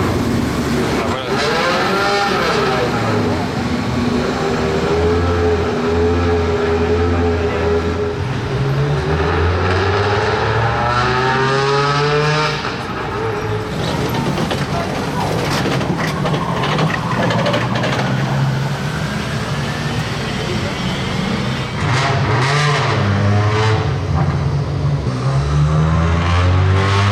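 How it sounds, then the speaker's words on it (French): Monte-Carlo Rally 2022 car engine revving in a town, loud rising and falling engine tones with repeated revs over about half a minute, close and dominant. "Normalement, il va remettre le moteur là-bas."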